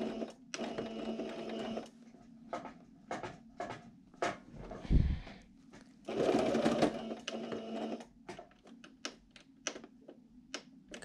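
A sewing machine stitches a fabric face mask's nose-piece pocket closed in several close bursts of rapid needle clatter, separated by short pauses and small handling clicks.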